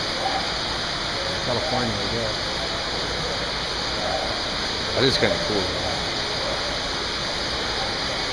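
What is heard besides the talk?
indoor waterfall at a Bass Pro Shops store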